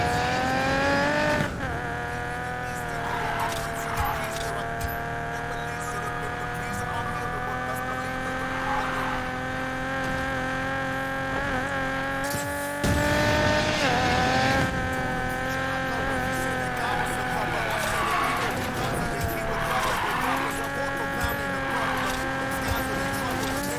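A car drifts in the video game Need for Speed Payback, its engine revving hard with long squealing tire skids. The sound runs continuously and loud, with a gear shift partway through, and brief talk sits underneath.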